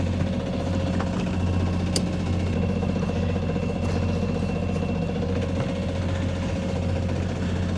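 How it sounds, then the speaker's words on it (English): A sailboat's engine runs steadily while the boat leaves the dock, a constant low mechanical drone with a faint vibration that holds at an even level throughout, with no voices. "But we do have the engine on."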